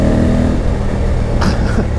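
A 2020 Honda Africa Twin 1100 motorcycle engine accelerates, a loud, steady, throaty drone that holds for a couple of seconds with a brief rise in pitch near the end.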